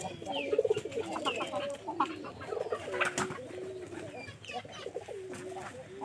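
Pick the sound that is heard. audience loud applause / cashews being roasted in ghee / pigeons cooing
pigeons cooing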